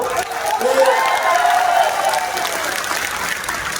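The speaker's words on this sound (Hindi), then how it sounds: "आप सब लोग इस शाहपुरा के नौजवान विधायक के लिए जोरदार तालियां बजाओ" A large crowd at an outdoor political nomination rally claps loudly and continuously, a dense wash of applause with cheering mixed in that holds steady throughout.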